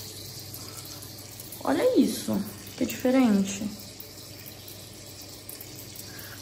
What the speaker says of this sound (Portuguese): eu queria mostrar essa torneira pra vocês